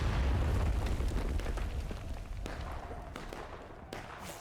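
Artillery cannon fire in War of Rights, a Civil War battle game, during a public match on the Hagerstown Turnpike map: a heavy rolling boom that slowly decays, followed by a few sharper distant cracks.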